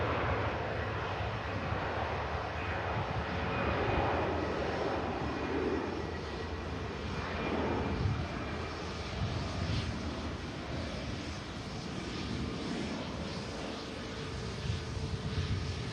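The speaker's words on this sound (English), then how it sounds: "A couple of aircraft now taxi over." Airliners taxi across an airport at a distance, their jet engines a steady whine and rumble that swells slightly at moments, with light wind noise on the microphone and no voices.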